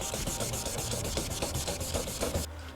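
A car headlight is wet-sanded with 2000 grit sandpaper, producing close, rhythmic back-and-forth rasping strokes, roughly five per second, loud and alone, stopping just before the end.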